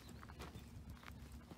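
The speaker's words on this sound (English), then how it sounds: "We have horses." Horses walking outdoors on a spring nature outing in Germany, their hooves giving a soft, irregular clip-clop close by, with faint rustling and breathy background noise around them.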